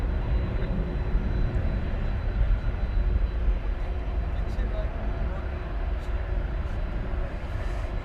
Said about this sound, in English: average A300 with an air start. The most annoying sound an aviator can hear.